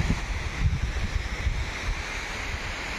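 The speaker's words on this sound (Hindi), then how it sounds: "देख रहे हो कितना ब्यूटीफुल सा वाटरफॉल है भाई" A waterfall in the mountains of Udhampur sends out a steady, close rushing roar of falling water, broad and continuous with wind buffeting the microphone and no voices.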